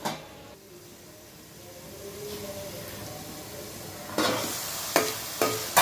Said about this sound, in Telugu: అలాగే జీలకర్ర వెల్లుల్లిపాయ అల్లం పేస్ట్ కూడా వేసుకొని సరి కలిపేసుకోండి.